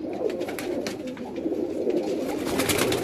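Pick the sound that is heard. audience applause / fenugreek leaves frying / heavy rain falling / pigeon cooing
pigeon cooing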